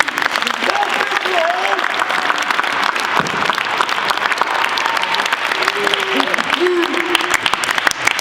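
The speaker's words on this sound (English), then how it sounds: "Let's give a hand for our seniors." Banquet audience at a high school football banquet applauding the seniors, a loud, dense, continuous clapping from a large room, with voices faintly audible underneath.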